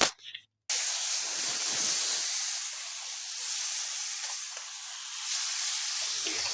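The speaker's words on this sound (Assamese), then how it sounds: "আৰু কচুখিনি দি ভালদৰে লাৰি ল'ম।" Taro, with chickpeas, fries in spiced oil in a pan and is stirred. A brief pause gives way to a loud, steady hiss and sizzle that holds close and even, with no talking.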